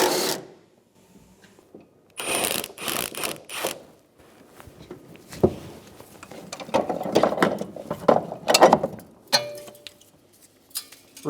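Ratchet wrench on the last strut nut of a 2010-2015 Lexus RX350 front strut, giving repeated bursts of rapid clicking with short pauses between, close and fairly loud, with no talking.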